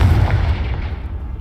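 A Confringo spell explosion in a video game goes off as a loud, heavy boom with a deep rumbling tail that stays strong and slowly fades over about a second and a half.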